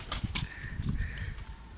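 An escaped honey-headed pigeon lands on a terrace, with a few quick, close bursts of flapping wings over a faint background.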